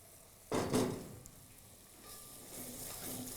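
A yogurt and onion mixture hits a hot kadhai with a sudden loud sizzle for kadhai paneer, then settles into a soft, steady frying hiss that swells slightly toward the end.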